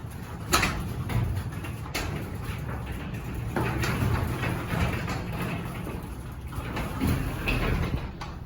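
A well-balanced garage door on a LiftMaster screw drive opener being pulled closed by hand, a continuous rolling rumble with scattered rattles and clunks of the panels, fairly close, with no one talking.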